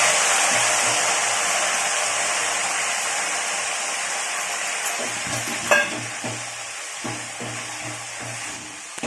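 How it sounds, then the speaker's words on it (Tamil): Curry leaves frying in hot oil for a Tamil mixture snack, a continuous close crackling sizzle that slowly eases, with a few light clinks and stirring knocks near the end. "அதுக்கப்புறம் வந்து நம்ம இப்போ கருவேப்பிலையை போட்டு பொரிச்சுக்கலாம்."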